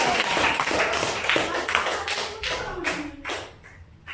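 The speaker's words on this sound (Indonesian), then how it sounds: "tepuk tangan untuk kelompok kuning" Classroom applause for the yellow group after a math lesson on integers, a dense crackle of many small hands clapping close by, fading and turning patchy toward the end.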